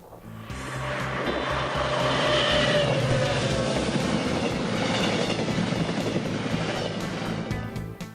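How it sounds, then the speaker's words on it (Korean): A train rolls along a seaside railway on Korea's west coast, a steady loud rumble with rhythmic clacking of wheels over rail joints, no voices heard. "석양을 가득 안고 바닷가 철길을 달리는 열차."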